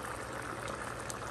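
Mung beans boil hard in a pot of water, a steady close bubbling hiss that runs unbroken and fairly loud throughout, with no voices.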